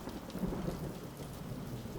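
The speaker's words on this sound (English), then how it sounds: "Looks like we got that thunderstorm after all." Steady rain pours during a thunderstorm while a low rumble of thunder rolls underneath, dense and constant, with no voices.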